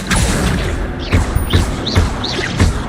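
Incendio fire spell cast repeatedly in Hogwarts Legacy, a series of whooshing bursts and thumps about every half second, each with a rising swish, loud and close with no talk.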